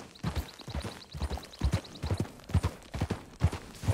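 Horse hooves clip-clop at a steady walking rhythm in Red Dead Redemption 2, repeated thuds close and clear with a faint high ticking running alongside, no voices present.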